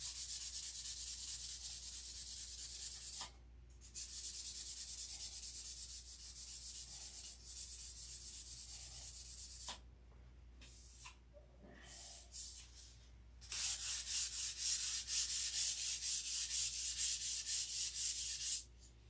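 Sandpaper rubs against a model plane build in steady back-and-forth strokes, close and fairly quiet, broken by short pauses and ending in a longer, brighter burst of sanding.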